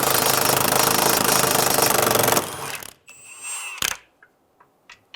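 A deep 14mm socket turning a fuel tank strap nut under a 2011-2014 Hyundai Sonata, loud rattling mechanical chatter of a power tool for a couple of seconds, then stopping, followed by a brief whir and a few faint clicks.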